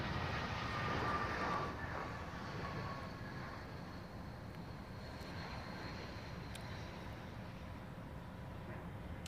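An aircraft taxiing at London Heathrow, its engine a steady, fairly distant whine and rumble that stays level throughout, with no talking over it.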